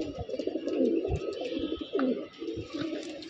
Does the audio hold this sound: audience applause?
no